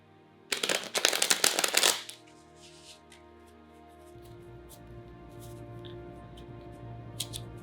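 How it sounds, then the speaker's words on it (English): A burst of crisp, rapid riffling as a deck of tarot cards is shuffled, loud and close for about a second and a half, followed by quiet handling noise. "I realize maybe I shouldn't talk when I'm shuffling, it's probably loud"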